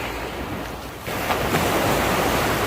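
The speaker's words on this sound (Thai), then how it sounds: "สียงคลื่นกระทบฝั่ง" Surf washing onto a beach at Pranburi, Thailand: a steady broadband roar of breaking waves that swells louder after the first second, with wind buffeting the microphone and no voices.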